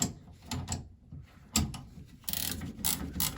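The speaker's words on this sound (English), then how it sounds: "The ratcheting wrench." Ratcheting wrench tightening circulator flanges on a Bosch Greenstar combi boiler install, giving bursts of rapid mechanical clicking with short pauses between strokes, close and fairly loud.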